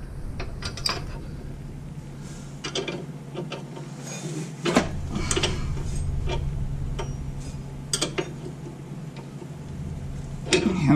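Box wrenches clicking and ratcheting on the shock bolts of a Jeep TJ, a run of scattered close metallic ticks, creaks and clanks over a steady low hum, with no talking.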